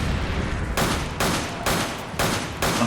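Gunfire in the video game Resident Evil 5 during co-op play: repeated loud bursts of shots in rhythmic groups roughly every three-quarters of a second, close and dominant throughout.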